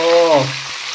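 Chicken pieces deep frying in hot oil until crisp, a loud, close, steady sizzle with a brief low hum and a short voiced sound at the start.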